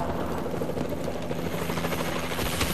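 Allied Warbird aircraft passing overhead in a futuristic shooter video game, a steady, loud, rotor-like mechanical roar that fills the whole stretch without letting up.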